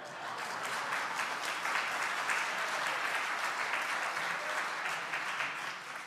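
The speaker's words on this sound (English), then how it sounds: "I expected applause." A church congregation applauds at a Christmas service at Holy Trinity Episcopal Church in Greensboro, North Carolina: steady, dense clapping that holds at an even level throughout, with no talk over it.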